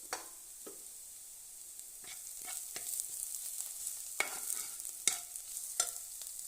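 Onion, garlic, ginger and green chili sauté in a pan with a soft, steady sizzle. A spoon clacks against the pan at irregular intervals, up close, with no voices.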